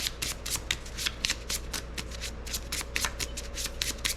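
Playing cards for a board game deck are riffled and shuffled by hand at close range, a steady run of crisp rapid flutters and soft slaps with no talk.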